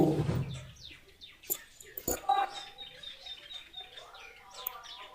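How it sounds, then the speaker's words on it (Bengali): Java sparrows in cages on a bird farm give bright, repeated short chirps and tweets at close range, with a brief low murmur of a voice at the start. "এখানে প্রতিটা খাঁচাতেই জাবা পাখি আছে"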